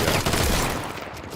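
Dense, continuous burst of gunfire from the video game Deadside fills a short moment at close range, loud and unbroken, with no talk over it.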